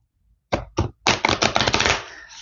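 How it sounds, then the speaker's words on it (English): A deck of tarot cards being shuffled close up: two short taps, then a quick rattling riffle of cards that trails off into a soft slide. "I will shuffle this deck here,"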